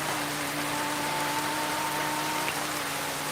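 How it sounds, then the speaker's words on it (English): Steady rain hisses throughout a Porsche Cup race in a racing video game, a dense, even wash of droplets with a faint tonal hum beneath and no voices. "the rain really gives a hard time to Adam and the other drivers."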